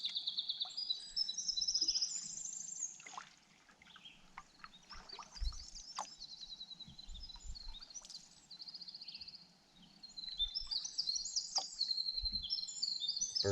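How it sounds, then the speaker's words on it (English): Birds sing in the early morning beside a lake during a solo canoe trip. Bright chirps and trills come from several directions at moderate distance against a quiet, still background, with short pauses between phrases. "Bird song is awesome. They seem so happy."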